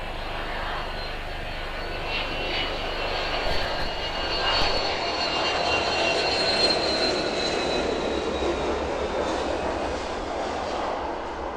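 An aircraft lands at East Midlands Airport in the evening, its engines a steady, broad roar that stays loud and close throughout and swells slightly midway as it passes.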